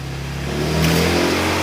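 A Honda Beat motorcycle engine with a knocking crankshaft runs at a steady idle, then revs up slightly, a loud, close, continuous mechanical drone with no talking.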